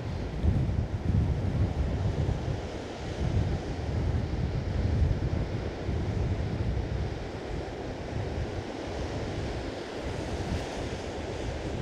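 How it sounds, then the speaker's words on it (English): Ocean waves crash and break against rocks along a bay, a constant heavy roar with wind buffeting the microphone throughout. "And these waves, when they're hitting the rocks, are just blowing up."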